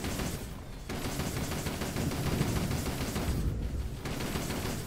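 Dense, continuous volleys of gunfire in the World War I tower-defense game Toy Soldiers HD, with soldiers shooting into an enemy spawn zone; the loud barrage runs nearly the whole time with brief dips.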